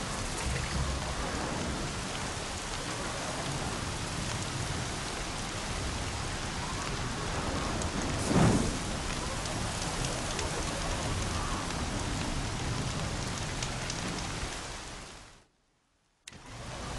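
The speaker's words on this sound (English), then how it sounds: "Here comes the rain." Steady heavy rain pours in the video game Horizon Zero Dawn, with a low thunder rumble near the middle, before the sound briefly cuts out near the end.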